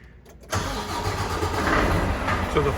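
A 2021 Volvo 860 Globetrotter truck's diesel engine cranks and catches about half a second in, then settles into a steady, close, rumbling idle.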